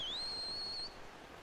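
Link's high-pitched whistle to call his Loftwing in the Skyward Sword video game, a single clear, steady tone that rises slightly and holds for under a second before cutting off.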